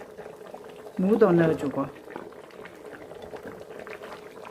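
A pot of Korean braised beef short ribs simmering with reduced liquid, a soft continuous bubbling under a voice, with a brief louder splash and clatter as mushrooms and vegetables go in.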